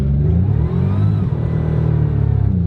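A Pontiac Fiero, a mid-engine sports car, pulls away hard from a rolling start. Its engine roars loud and close and climbs steadily in pitch for the whole stretch, with no voices over it.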